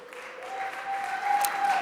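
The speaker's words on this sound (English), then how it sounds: "you may want to hold your applause for a sec" An audience at a governor's budget address breaks into applause, a short burst of clapping that swells slightly louder toward the end.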